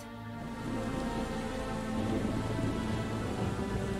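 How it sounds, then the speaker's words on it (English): Rain falls steadily in the video game Valkyria Chronicles 4, a dense even hiss of downpour that swells slightly after the first half second and holds without talk. "This rain is bullshit, man. I can't see a damn thing. I can see the rain."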